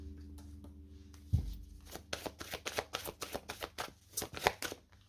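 Tarot cards from a romantic tarot deck are handled and shuffled close up, with a soft thump followed by a steady run of crisp riffling flicks and snaps.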